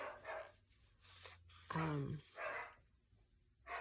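A puppy barking outdoors among bigger dogs, with short yips and one louder bark in a quick uneven series, mixed with whimpers and background voices.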